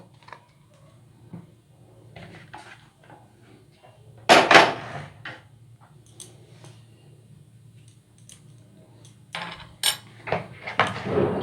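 Dry ingredients and ghee stirred together in a bowl for fried milk-powder sweets, heard as scattered scraping and clinks of a spoon against the bowl, with two louder bursts of clattering amid quieter intermittent mixing.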